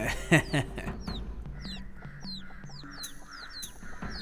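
A chicken-like bird clucks in a short, loud burst up close, followed by a run of repeated high chirps and softer clucks that continue at an even pace.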